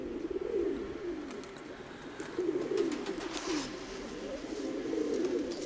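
Pigeons at a pigeon loft coo in a low, repeated rolling murmur, several birds close by, with a steady windy outdoor background and faint higher chirps.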